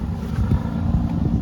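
A 1986 Ford F350 with a 6.9 IDI diesel engine idles with a deep, rumbling exhaust, loud and steady with a low, uneven throb, heard close up without talk.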